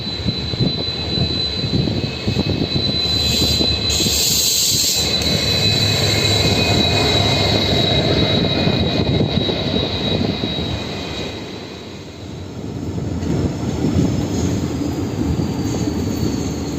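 A train pulls into Giddalur railway station on the Vijayawada to Dhone line. A loud, steady rumble of rolling wagons carries on throughout, with high wheel squeals on top and a brief lull near the twelfth second.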